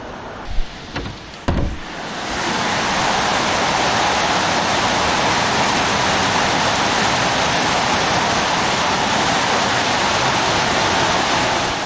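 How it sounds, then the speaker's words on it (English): Heavy rain pours down in a dense, constant roar after a few brief knocks at the start, loud and unbroken throughout. "this is a lot of rain"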